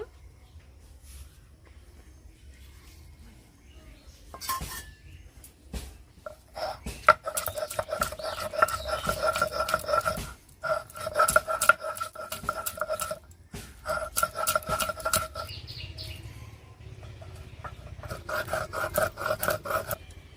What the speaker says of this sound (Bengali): মশলাটা বেটে নেব বন্ধুরা টমেটোটা বেটে নেব